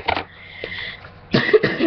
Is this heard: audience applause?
no